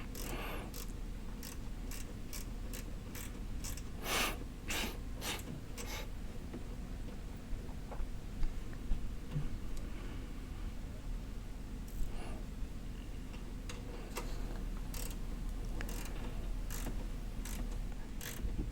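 A ratchet tightens bolts on a hood strut bracket on a 2024-2025 Toyota Tacoma or 4Runner, giving bursts of quick metallic clicks at the start and again near the end, close up and with no talk.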